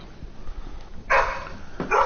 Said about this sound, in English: We got a dog in the background.